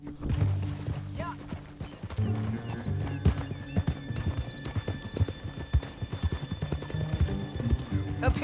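Horses in Red Dead Redemption 2 clop along in a steady rhythmic gait, hooves close and crisp, with a whinny near the start and low engine-like rumble and faint talk underneath.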